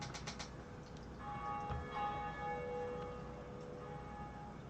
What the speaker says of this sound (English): if anyone's close by in the area in their game, they can hear my bell ring